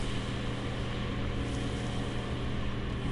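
An offroad vehicle engine in GTA 5 Online drones steadily and loudly throughout, a constant low rumble with no pauses or voices.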